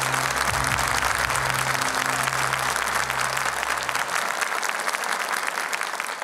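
Sustained applause from a live audience greets a contestant at a Quran recitation competition, dense steady clapping filling the hall throughout with a low hum fading out partway, no speech.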